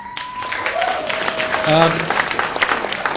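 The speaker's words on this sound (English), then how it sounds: "please withhold your applause" Audience applause during a 2014 League of Women Voters congressional debate, a steady burst of clapping that swells midway, with a voice speaking over it.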